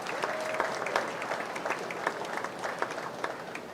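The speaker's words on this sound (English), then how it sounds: "Give yourself a big round of applause for all the efforts you put in all year long" Applause from the crowd at a county 4-H fair swine show, a steady patter of many hands clapping at moderate volume with a faint voice over it throughout.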